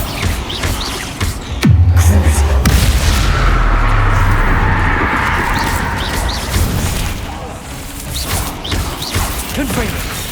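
A booming Bombarda blast spell explodes with a heavy, loud crash in Hogwarts Legacy combat, followed by rumbling debris and smaller magical impacts.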